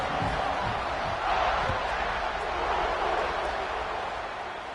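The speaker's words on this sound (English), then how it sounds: "this crowd is buzzing after that last score" A stadium crowd in the NCAA 25 college football video game buzzes after a score, a steady, dense wash of distant cheering and murmur that holds throughout with a slight swell, under faint commentary.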